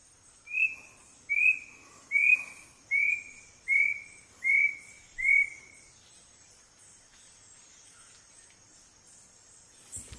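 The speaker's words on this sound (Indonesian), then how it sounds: "bisa ngedenger suara burung-burung gunung" Mountain birds calling on the slopes of Mount Sumbing, a series of seven evenly spaced, clear whistled notes rising in a steady rhythm, then quiet.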